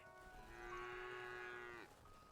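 A single steady moo from a cow in the video game Craftopia holds for nearly two seconds and then drops off sharply. It sounds close and clear, with no speech.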